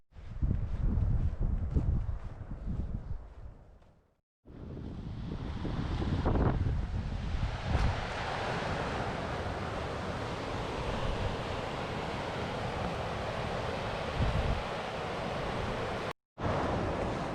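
Strong wind in Scotland buffets the microphone in a steady roar, with a brief cutout partway through and a faint wash like distant surf underneath.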